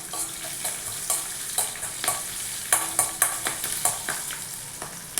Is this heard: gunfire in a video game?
no